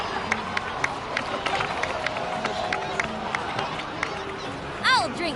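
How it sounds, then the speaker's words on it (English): A crowd in Genshin Impact cheers and claps with a busy, rapid patter of applause and scattered shouts, fairly even and moderately loud, with a short higher squeal near the end. "please give another round of applause for them"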